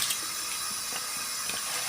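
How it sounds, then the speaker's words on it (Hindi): Water simmering at a rolling boil in a cooking pot of vegetable biryani, a steady close hiss and bubbling wash with faint pops throughout, no voices. "ये देखिए माशाल्लाह पानी को उबाल आ गया।"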